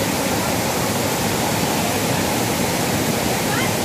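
The flooded Río El Naranjo in El Salvador, swollen by heavy rain, rushes in as a continuous, loud, close roar of churning water with no pauses.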